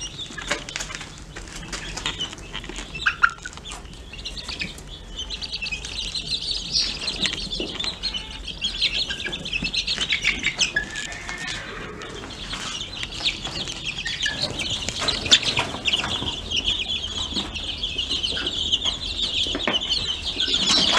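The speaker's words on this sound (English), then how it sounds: "there'd be chickens everywhere because they get out" Chickens loose on a farm, clucking and flapping their wings: bursts of clucks and wingbeats come and go nearby over a steady background, without speech.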